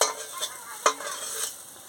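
Shredded cabbage fries in a pan with garlic and chili, a soft steady sizzle broken by several sharp scraping stirs of a utensil against the metal.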